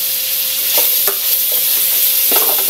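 Shrimp and vegetables sizzle in a pan while a utensil scrapes and stirs them in a few distinct strokes, a steady close frying hiss beneath, with no talking.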